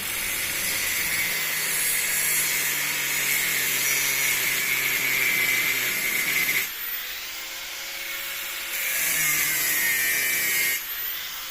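A power tool cuts the top off an old refrigerant tank in a continuous loud hissing, grinding whine, broken by two brief pauses, with no voices.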